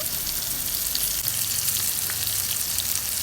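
Chopped onion sizzles and fries in a pan with a steady, close crackling hiss that holds throughout.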